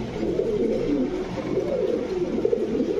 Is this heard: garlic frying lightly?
no